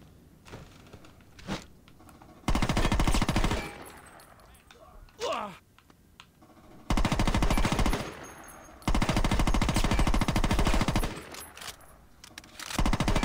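Rifle gunfire in the Saints Row video game: loud, sustained automatic bursts, three long volleys with short gaps and quieter clatter between them.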